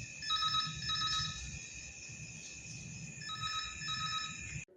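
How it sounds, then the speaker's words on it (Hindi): A telephone rings on and on with no answer at an electricity office at night, its repeated electronic ring bursts loud and steady over a faint background hum until it cuts off abruptly. "अभी तक आप रिंगिंग सुन रहे हैं"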